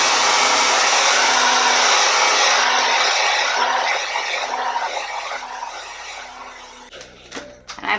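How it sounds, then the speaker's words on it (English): Handheld blow dryer running on its cool setting while styling a red wig, a loud steady airy whoosh close to the listener that gradually softens before cutting off with a few clicks. "And I blow dry on cool, not hot."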